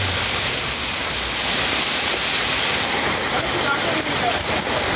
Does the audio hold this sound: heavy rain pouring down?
yes